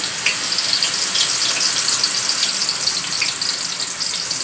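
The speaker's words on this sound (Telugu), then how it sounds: "ఈ పేస్ట్ మొత్తం ఆయిల్లో వేసేసుకుని బాగా గోల్డ్ కలర్లో అయ్యేంత వరకు వేయించేసుకోవాలి" Onion paste frying in hot oil for a korameenu fish curry, producing a loud, continuous bright sizzle with crackling pops that stays steady throughout.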